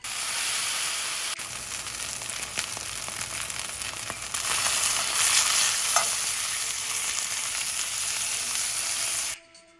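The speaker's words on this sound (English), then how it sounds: "We're then going to sear the steak for 30 seconds on each side" A steak sears in hot olive oil in a cast iron skillet, a loud continuous sizzle and hiss that swells midway and cuts off abruptly at the end.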